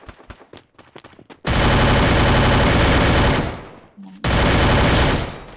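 Loud, sustained automatic fire in a shooting video game comes in two long bursts, split by a short pause. Scattered single shots and a brief spoken word lead into it.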